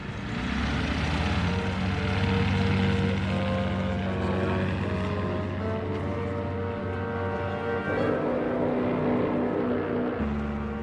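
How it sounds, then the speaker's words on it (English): Engines of German Gotha bombers from the First World War drone steadily and loudly throughout, a continuous deep propeller-engine roar with a slight rise and fall. "14 German Gotha bombers took off to bomb London."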